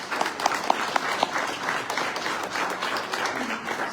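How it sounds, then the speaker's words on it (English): Audience applause at a sci-fi horror festival Q&A, a steady crowd of clapping hands with a few louder, sharper claps standing out near the start, sustained throughout. "A round of applause for that."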